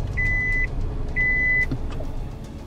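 A car sounds two short, steady electronic beeps spaced about a second apart, moderately quiet over low background rumble outdoors.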